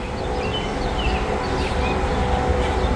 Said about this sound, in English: Sounds like there may be a train